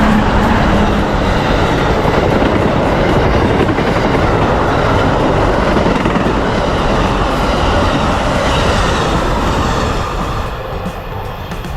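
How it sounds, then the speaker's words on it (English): An Amtrak passenger train hauled by two Siemens ALC-42 Charger locomotives, the Floridian running between Chicago and Miami, roars past close by, loud and steady with rolling wheel clatter that eases slightly at the end. "It's the mighty workhorse of Amtrak. Double ALC 42 Siemens Charger."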